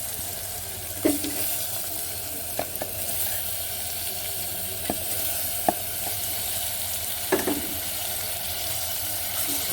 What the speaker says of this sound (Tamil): நல்லா வதக்கணும், நல்லா கிளறிடணும்.